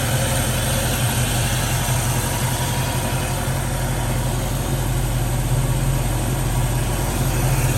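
A 1970 Ford Mustang Mach 1 engine idles steadily and evenly with a deep, rumbling throb, close by and continuous throughout.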